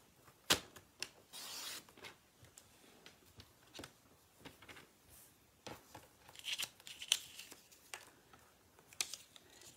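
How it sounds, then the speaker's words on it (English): Scissors snip through paper strips for an Easter basket craft, a series of sharp, close, quiet cuts spaced irregularly, with faint rustling of paper between them. "I'm going to cut 2 strips at 2¼."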